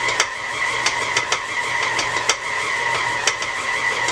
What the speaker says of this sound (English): You hear the mixer struggling just a little bit.